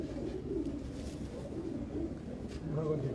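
Pigeons cooing in a loft of racing pigeons, soft low throaty coos repeating close by under a murmur of voices and background noise.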